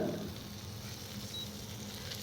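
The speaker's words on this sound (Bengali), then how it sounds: "এবারে আমি একে একে মাছগুলো ভেজে নিচ্ছি" Soft, steady sizzling of large goldfish frying in oil, brief and fairly quiet, with no voices.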